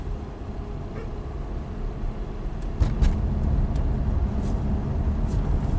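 A sluggish six-cylinder Subaru with variable valve timing fault codes drives along, heard from inside as a steady low road and engine rumble with a couple of faint knocks partway through and no talking.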